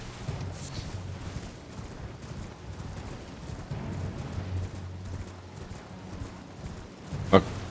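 Horse hooves clip-clop in a steady galloping rhythm during Elden Ring play, faint and continuous under a low background rumble, with one sharp burst near the end.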